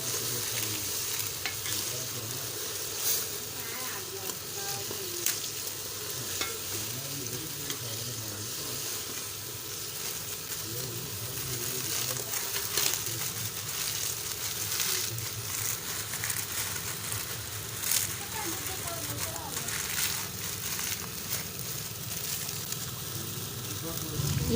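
Vermicelli frying in melted ghee in a pan, a steady close sizzle with scraping stir strokes throughout, while a person talks over it.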